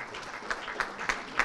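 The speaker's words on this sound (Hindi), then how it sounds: "जैसे मैंने कहा तालियां जो हैं रुकनी नहीं चाहिए" An audience applauds at the Sushruta Awards 2024 ceremony, a soft, continuous patter of clapping with a few louder claps standing out, heard from a moderate distance.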